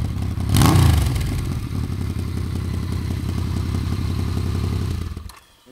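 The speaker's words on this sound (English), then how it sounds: "Listen to the exhaust note on this thing." A 1979 Yamaha XS750 motorcycle engine idles with a loud, lumpy exhaust burble, a sharp rev near the start, then a steady throbbing run before it cuts out.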